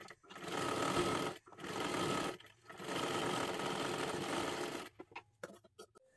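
Sewing machine basting stitches along the edge of blouse fabric in three close, loud runs separated by short pauses, then stopping with a few light handling clicks.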